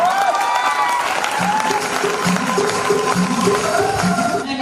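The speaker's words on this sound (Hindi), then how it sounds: "एक जोरदार ताली होनी चाहिए।" A large audience claps steadily and loudly at a network-marketing leadership meeting, the dense applause running throughout over a soft background of sustained musical tones.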